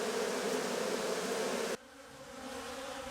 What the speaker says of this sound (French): Les abeilles reconnaissent rapidement leur reine et s'empressent de l'entourer pour la protéger